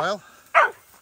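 A pig hunting dog in central NSW gives two sharp, close barks about half a second apart, loud and alone.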